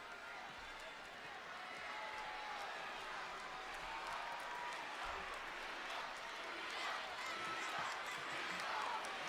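Large wrestling arena crowd at Friday Night SmackDown in Dickies Arena, Fort Worth, keeps up a steady roar with scattered cheers and thuds beneath ongoing commentary, swelling louder toward the end.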